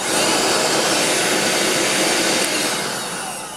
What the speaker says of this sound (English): majority of that noise is actually the air going through the machine.